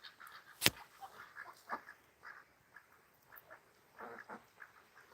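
Muscovy ducks squabble as one big drake chases the larger birds, giving a few scattered quacks and honking calls near the listener, with one sharp loud squawk early and quieter bursts after it against light outdoor ambience.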